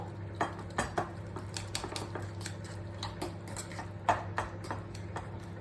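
An ingredient being crushed in a small pot, heard as a run of close, irregular tapping and clinking knocks against the pot, some sharper than others, with no talk.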